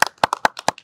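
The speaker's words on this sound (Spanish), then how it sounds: "Un aplauso," Audience applause for a guest at a talk in Barranco: a short burst of hand claps, five or six sharp, distinct claps in quick succession, fairly close and clear.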